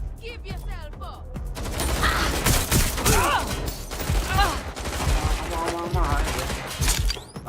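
Sustained gunfire from the video game Watch Dogs Legion rattles in dense, overlapping bursts over a loud, busy mix, with shouted voices and game chatter running throughout.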